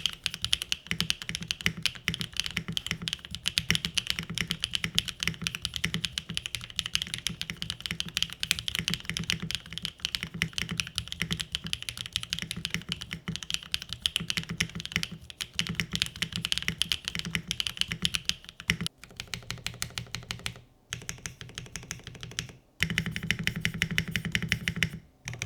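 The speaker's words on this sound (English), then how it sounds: "the Neo75 CU sounds incredibly consistent, and the case characteristics really shine even without any foam" Someone types continuously on a Neo75 CU mechanical keyboard without foam in the case, producing dense, even, close-up key clacks with a few short pauses near the end.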